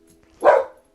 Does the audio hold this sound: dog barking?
yes